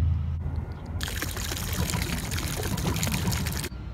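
Carbonated water pours steadily and loudly from a bottle outdoors, a dense hissing, splashing stream running for about three seconds after a brief quieter start, with no talk over it.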